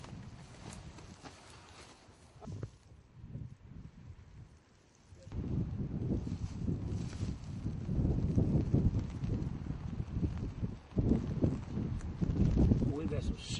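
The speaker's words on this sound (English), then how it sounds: "We've got some serious wind here." Strong wind buffets the microphone outdoors, a steady low roar that swells from a quieter start into loud, sustained gusting, with some talk underneath.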